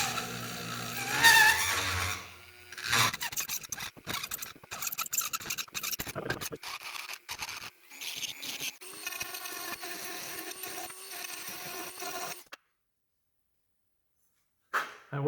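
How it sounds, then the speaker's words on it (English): Ball-shaped mill deburring the underside of a steel winch part, scraping and grinding in uneven bursts with pauses and tool knocks, stopping into silence before a short final burst. "That ball-shaped mill was able to reach in and deburr the underside"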